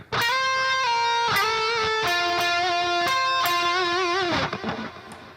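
Sustained electric guitar notes sliding between pitches with wavering vibrato, a few slides ringing out clearly before the final note fades.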